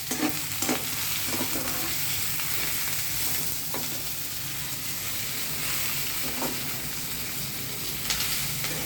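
Mint leaves frying with tamarind in an oily pan, a constant close sizzle with occasional scraping stirs of a spoon, steady and moderately loud without any voices.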